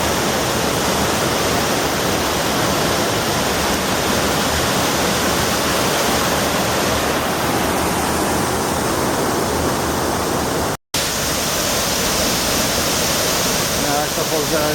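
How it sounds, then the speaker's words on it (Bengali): Steady, loud broadband rush of a waterfall beside the Cherrapunji route in Meghalaya, continuous roar filling the scene with a brief cut near the end, no talk over it. "একটা ফলস দেখা গেল"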